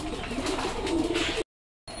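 Pigeons cooing inside a loft during the rainy season, soft overlapping murmurs under steady background noise, cut off abruptly by a short silence before resuming.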